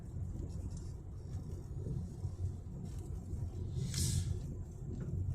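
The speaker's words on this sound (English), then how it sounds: "he just had to really accelerate and rev up his engine and make noise to get to that red light" A car engine revs and accelerates at a distance, a low rumbling drone rising and swelling over steady road noise.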